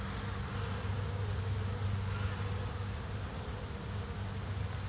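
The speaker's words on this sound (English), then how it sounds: "these honeybees, they keep them away." Honeybees guarding the entrance of a five-frame nuc hive against robbing hornets, a dense steady buzz of many insects close by, with no voices.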